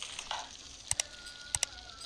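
Faint sizzling of meat being grilled and salted in a children's kitchen cooking game, with soft frying hiss and a few sharp clicky taps in two quick pairs.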